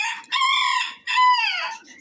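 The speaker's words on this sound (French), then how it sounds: "Voilà, deux coqs qui sont là-bas." Two roosters at a poultry farm; one long, loud crow rings out close by in two drawn-out, strained phrases, clear and alone without speech.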